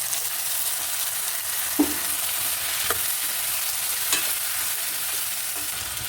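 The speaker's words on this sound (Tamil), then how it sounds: "இப்போ வெங்காயம் எல்லாமே நல்லா வதங்கிடுச்சு" Onions and tomatoes sautéing in a pan for a lentil curry, a constant bright frying sizzle with a few soft stirring taps and scrapes, close and without voices.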